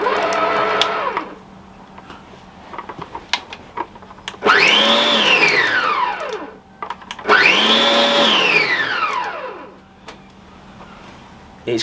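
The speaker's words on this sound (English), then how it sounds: "It's not the quietest of mixers I've ever used." Budget stand mixer pulsed in two loud bursts, its motor whining up to speed and winding back down each time, with quieter mechanical hum in between.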